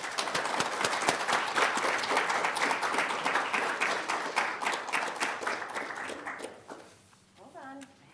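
Warm, sustained applause from an audience welcoming a speaker to a reading, dense and steady before tapering off near the end as a voice begins.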